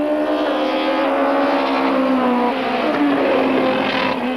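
Supertouring race cars, a Peugeot 405 and two Opel Vectras, race closely, with loud high-revving engines screaming and shifting pitch as they pass and accelerate together, continuous and near.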